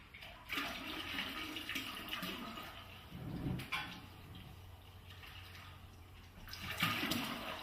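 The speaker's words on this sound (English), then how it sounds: "I will go ahead and add the rest of our water" Water pours steadily into a brewing pot for an extract beer kit, a continuous splashing rush that swells and fades a couple of times, with no talking.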